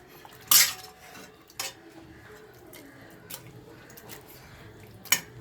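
Metal utensil scrapes and knocks in a pot while mashing cooked brinjal and potato for kathiri urulai kadaiyal, with a few sharp clanks spaced out over quieter soft mashing.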